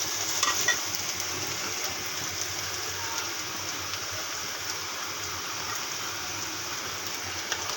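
Onions fry in hot oil in a pan as ginger-garlic paste goes in, giving a steady, even sizzle throughout with faint stirring scrapes.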